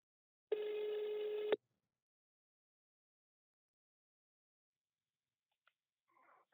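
A single outgoing-call ringback tone on a telephone sounds once for about a second, a steady clean tone, followed by long silence and a faint brief noise near the end.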